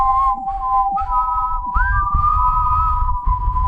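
A steady, high, clear whistle holds a sustained tone, sliding up briefly in places, over a low rumbling background.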